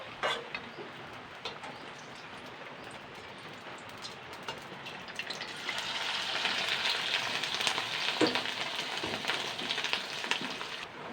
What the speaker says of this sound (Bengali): ঠিক এরকম লাল লাল করে ভাজতে হবে লাল লাল করে ভেজে নিয়েছি